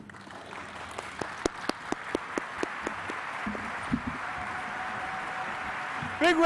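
Applause rises in a courtroom at a naturalization ceremony to welcome new citizens. Distinct, loud individual claps lead and fade into a softer, steady crowd wash, with a voice and a brief sound near the end.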